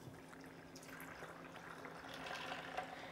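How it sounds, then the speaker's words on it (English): Two cups of water are poured quickly into a pot for plant-based macaroni and cheese, a soft steady splashing trickle over a low background hum, faint and continuous. "we have 2 cups of liquid here, water here. I'm gonna pour that in"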